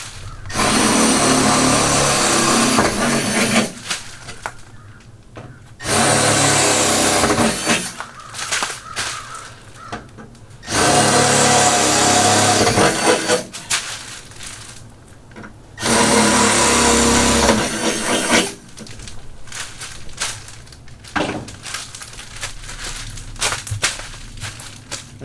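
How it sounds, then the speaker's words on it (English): Power drill boring final holes with a 17/64 drill bit through pre-drilled metal parts, in four loud, steady bursts of several seconds each, with quieter pauses and handling clatter in between. "now I'll take my 17/64 and I'll make my final holes"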